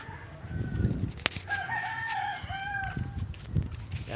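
A rooster crows with a long drawn-out call while chickens cluck nearby, over a steady outdoor background.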